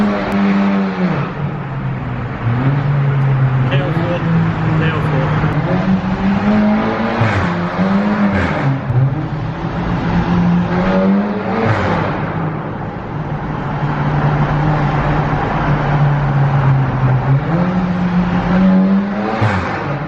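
A Volkswagen Golf GTI engine revs hard and accelerates inside a tunnel, its loud, rising drone swelling and dropping through repeated gear pulls, echoing close and continuous for about twenty seconds with no voices.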